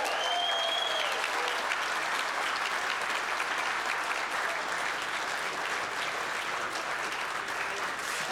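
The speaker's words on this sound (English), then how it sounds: "A round of applause for Anivo." Sustained applause from an awards-ceremony audience greeting the winner of the 2026 Innovation Awards, a dense, steady wash of clapping that holds at an even level throughout with no voices over it.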